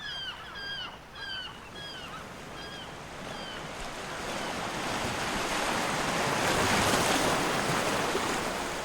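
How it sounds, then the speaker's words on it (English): Realistic beach ambience of ocean waves washing ashore, a steady broad surf wash that swells louder toward the end, with a few faint bird calls early on. "here's a short realistic sound clip of a beach"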